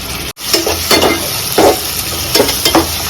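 Ginger garlic paste fries with onions in a hot pan for a spicy chicken masala, a loud, steady close sizzle with bursts of stirring and scraping and no voices.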